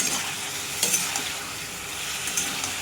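A curry being stirred and sautéed in a pan makes a steady sizzle with scraping strokes and a few light clinks from the spoon, close and moderately loud, with no voices.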